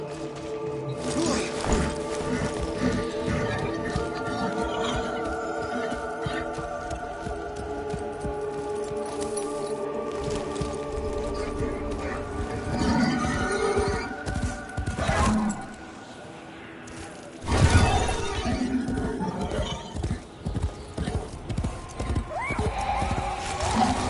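Horse neighing and whinnying with rhythmic clip-clopping hooves, alongside game sound effects and occasional brief thuds.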